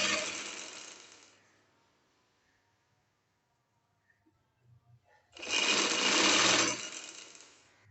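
A sewing machine stitches along a folded trouser hem in two bursts, a first run fading out and a louder second run after a quiet pause, close and with no talking.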